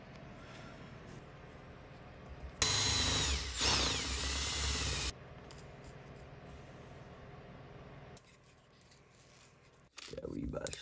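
A small hole is drilled into a wooden holder for a hand plane, a power drill whining loudly for a couple of seconds in a quiet workshop, followed by faint handling noises and a brief clatter.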